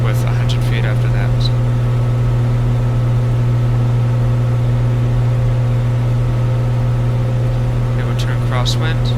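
A simulated Cessna 182 engine held at idle power drones steadily with a strong, low, even hum throughout, close and constant, while a voice talks over it.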